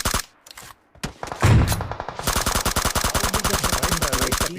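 Rapid automatic gunfire in the mobile battle royale game BGMI, a few scattered shots first, then a sustained loud burst of evenly spaced rounds running to the end.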